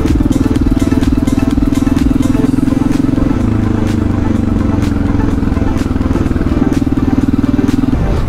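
A Yamaha TT600 E single-cylinder motorcycle being ridden gives a loud, steady engine drone with a pulsing thump and a pitch shift midway as gears change, while a rider's voice is faintly heard over it.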